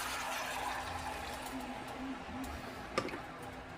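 One cup of water poured into a pot of apples, sugar and butter for an apple cobbler, a soft continuous liquid trickle with a faint clink near the end, quiet and close.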